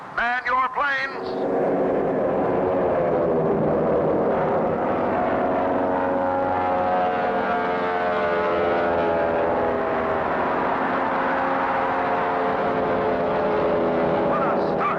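Racing airplanes in a Clutch Cargo cartoon roar off at a race start, a loud sustained engine drone with shifting pitch following a brief burst at the opening, and a voice narrates over it.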